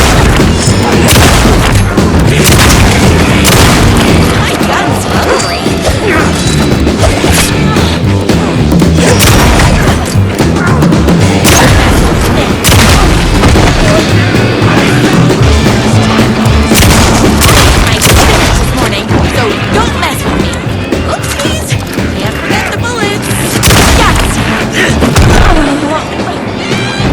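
Loud, relentless gunshots and booming impacts from Alan Wake 2's Night Springs episode fill the whole stretch, with heavy thuds and crashes layered over a character's voice.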